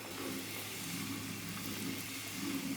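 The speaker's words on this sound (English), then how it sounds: "the water is boiling, so we're gonna add 1 cup of the mini tapioca pearls" Water boiling hard in a pan while mini tapioca pearls cook for coconut pudding, a steady close bubbling hiss that stays level throughout with no voices.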